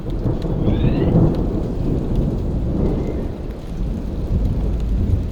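Rain and thunder captured on a binaural headset outdoors: a dense, continuous hiss of rainfall over a deep, rolling rumble of thunder, steady and close throughout, with no voices.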